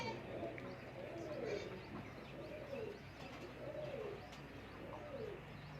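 Lakha pigeons cooing at a loft, soft repeated coos roughly every second and a half, quiet and close, over faint background noise.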